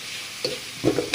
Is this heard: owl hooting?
no